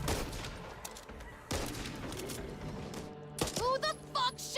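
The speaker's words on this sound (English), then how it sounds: "Who the fuck shot me?" Video game gunfire bursts in a rapid fusillade, loud and close, with sharp blasts at the start and again midway, followed by ringing, whistling game sound effects near the end.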